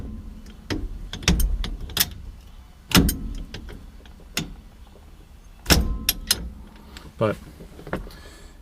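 An S1 sequential shifter lever clunks and ratchets into gear inside a car, several sharp mechanical clicks and thumps spaced irregularly, close up, with a brief spoken word.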